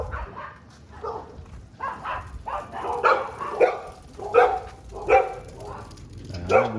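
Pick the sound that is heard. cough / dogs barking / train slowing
dogs barking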